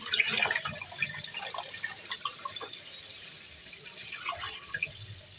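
White rice is washed under a running kitchen tap, a steady rush of water with light splashing and trickling, close and continuous.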